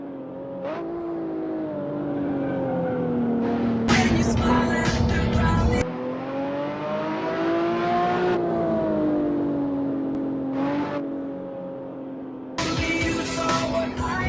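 A BMW Roadster races flat out down a track straight, its engine note droning loud and close and climbing in pitch through each gear, with short sharp breaks at the shifts.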